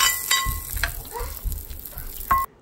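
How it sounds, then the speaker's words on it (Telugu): A hot tempering of red chillies and coriander, poured into raw tamarind pachi pulusu, gives a close crackling sizzle with bursts of spattering and the clink of a utensil, then cuts off abruptly at the end. "ఆఫ్ చేసేసిన తర్వాత ఈ పోపుని మనము ఈ పచ్చిపులుసులోకి వేసుకుందాం"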